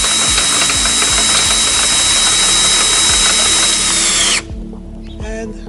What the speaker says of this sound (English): as you could see, the drill made short work of what can be an awkward job